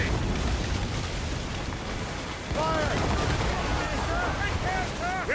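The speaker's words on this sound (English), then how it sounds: "Man the cannons!" Ship cannons firing in Assassin's Creed Rogue during a naval battle, booming volleys mixed with gunfire crackle over rushing wind and waves, with shouted voices in the middle of the clash.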